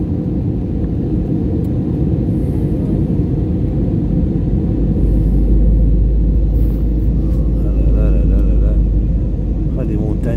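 A steady, loud low rumble of an airplane engine fills the clip, deepening and swelling toward the end, with no clear voices.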